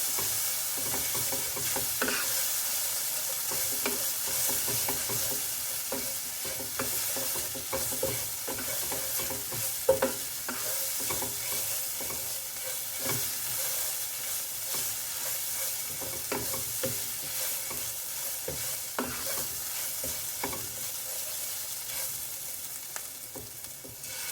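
Spices sizzle and fry in hot oil in a pan while a spoon stirs and scrapes them, making steady crackling with occasional louder clinks. No one speaks over it.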